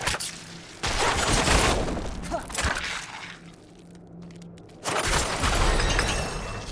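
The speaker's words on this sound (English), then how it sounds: "I do enjoy the level up explosion." Level-up explosion in the PC game Diablo IV: loud, broadband bursts of blasting and shattering, one near the start and another around five seconds in, with a low rumble between them.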